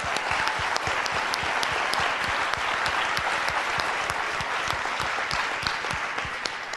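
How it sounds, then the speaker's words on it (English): A room full of people gives a steady round of applause at a talk on building connections, with dense overlapping claps and sharp individual hand smacks near the front, held at even volume. "I want everybody to give her a round of applause."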